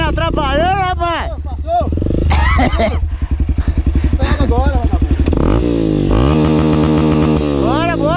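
Dirt bike engine on a trail in Ouro Verde de Minas, running loud and close with a rapid buzzing idle and repeated revs, under someone talking and breathing heavily.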